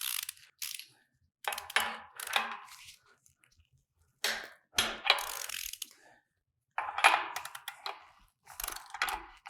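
A torque wrench tightens bolts in a circular pattern on a Ford equipment connection fitting, giving close, bursty ratcheting clicks in short runs separated by silent pauses, with no talking.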